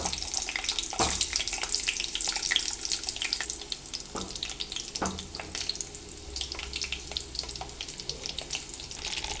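Amla (Indian gooseberries) frying in hot sesame oil on low heat give a steady close sizzle and bubbling hiss for the whole stretch, with a few sharper crackles and clinks along the way.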